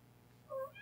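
Short cat meow, a single faint tonal cry rising briefly near the end over a quiet low hum, in a Dokapon Kingdom game.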